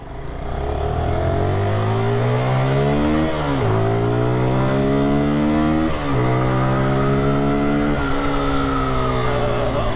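QJ SRK 125S 2024 sports motorcycle, brand new, riding in Karachi traffic, with the engine loudly revving up through several gears, each climb in pitch broken by a quick dip at the shift.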